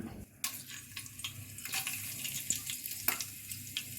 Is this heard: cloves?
yes